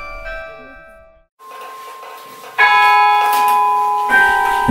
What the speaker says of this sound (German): Im Kirchturm befindet sich ein Glockenspiel, ein sogenanntes Carillon.